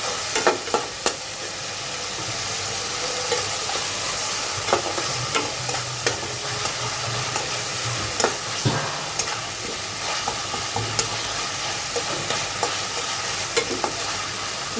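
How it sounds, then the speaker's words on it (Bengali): Garlic paste and onion sizzling steadily in hot oil for a Bengali potol and rui fish curry, with a constant frying hiss, occasional stirring scrapes and small pops close by, no talking. "রসুন আর পেঁয়াজ দুটো একটু ভেজে নেব"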